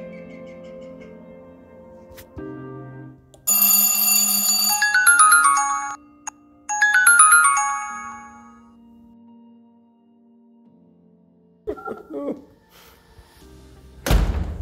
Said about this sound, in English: once we press the doorbell